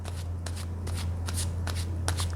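Tarot cards shuffled by hand for a reading, a brisk riffling run of crisp flicks and snaps, close and fairly loud, with a steady low hum underneath and no talk.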